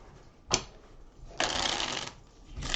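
Playing cards for the board game Ticket to Ride: Rails & Sails being shuffled in three separate bursts of riffling, close and moderately loud, with quiet pauses between.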